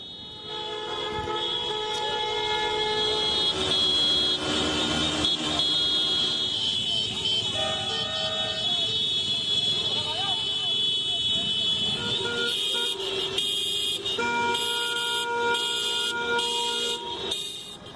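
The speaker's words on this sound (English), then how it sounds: "The protesters on motorcycles and also in their cars formed a caravan and drove to a bridge" A protest caravan of cars and motorcycles drives toward a bridge at Brazil's border with Paraguay, many horns honking and tooting continuously and overlapping, with repeated rhythmic blasts near the end over steady traffic noise.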